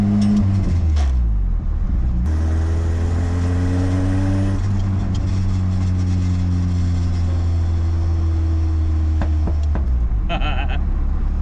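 Old abandoned Ford Ranger pickup with a crunchy, worn clutch, heard from inside as the engine drones and rises in pitch through revs, dropping between shifts, loud and close throughout.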